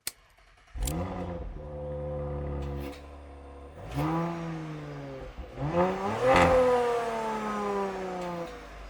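An Audi sports car engine cranks and fires up, settles into a throaty idle, then revs hard twice with rising roars before easing back, close and loud.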